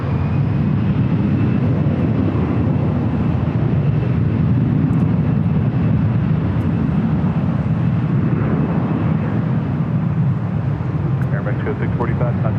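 A Virgin Atlantic airliner on its landing approach to runway 24 right at LAX makes a steady, loud roar throughout, with voices talking underneath.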